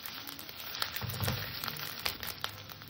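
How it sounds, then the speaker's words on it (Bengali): Ginger-garlic paste frying in a pan for tangra fish curry, a faint, steady sizzle with a few soft stirring scrapes over a brief stretch. "আদা রসুনের কাঁচা গন্ধটা যাতে চলে যায় সেইভাবে একটু কষে নেব"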